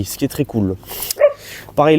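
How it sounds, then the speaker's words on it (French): A dog barks and yips in short sharp bursts close by while someone speaks French over it, reviewing a Peugeot 2008. "Excusez-moi pour le chien."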